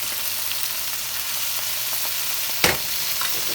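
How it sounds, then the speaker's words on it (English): Minced garlic and oil sizzle in leftover teriyaki sauce in a pan, a steady broadband frying hiss throughout with one sharper burst of crackle near the end as it is stirred, no voices. "I'm going to go ahead and add in some oil. To that, I'm going to add in 2 teaspoons of garlic."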